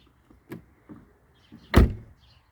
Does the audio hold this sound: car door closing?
yes